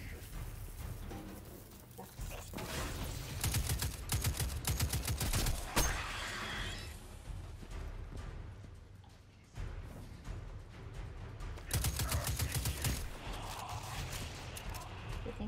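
Gunfire rattles in the Destiny 2 shooter game: dense automatic bursts and sharp shots run almost continuously for fifteen seconds, loud, with short lulls between volleys.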